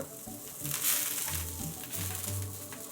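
Bean sprouts stir-fry in a hot iron wok, a close bright sizzle with soft tossing rustles and a low hum underneath.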